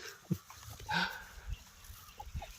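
A broody layer hen, approached, gives a short, agitated cluck and a squawk up close, amid faint background rustling and thuds.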